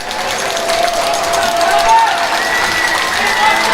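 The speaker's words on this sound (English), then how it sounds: "see their fans cheering them in to the locker room" Hockey fans at a PeeWee B game between Sioux Center and Sioux Falls East cheer and clap steadily as their team leaves the ice, a sustained crowd roar with a commentator talking over it.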